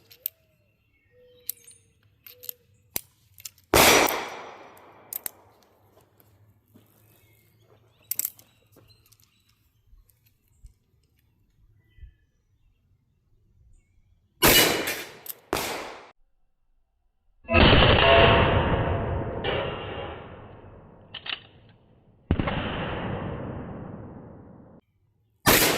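A Taurus Deputy .45 Colt revolver with a 4-3/4 inch barrel is fired outdoors, each shot a sharp loud crack with a ringing tail. Several shots are spaced irregularly across a quiet range, and a few softer clicks and handling noises sit between them.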